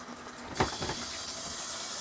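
Water runs steadily from a bathtub faucet into a tub just cleared of a clogged drain, giving a continuous close hiss with a brief splashy burst as the flow starts.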